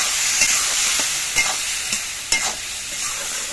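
Spices with turmeric, salt and slit green chillies being stirred and sautéed in a pan for hilsa fish curry, a steady close sizzle with a few sharp scrapes of the spatula, no talking.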